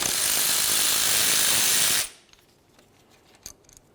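Loud, steady power-tool whir loosening a 14mm brake caliper slider bolt on a 2004-2015 Nissan Titan front brake, running for about two seconds before cutting off, followed by faint clicks and light handling noises.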